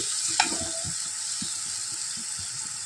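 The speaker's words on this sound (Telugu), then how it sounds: "ఇవి వేగుతున్నాయి, మగ్గిపోయినాయండి" Mushrooms fry in a pan with ginger and garlic paste, giving a steady close sizzle and hiss with light soft stirring taps and no speech.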